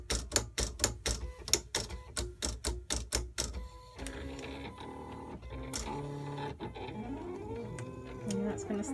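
A desktop cutting machine working on homemade game tokens makes a rapid series of sharp mechanical clacks, then shifts to a steady whirring motor hum with rising and falling tones as the blade moves.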